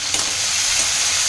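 Chopped tomato hisses loudly as it hits sautéed onion frying in oil for tofu bhurji, with a dense, steady sizzle and a faint clink of a utensil near the start.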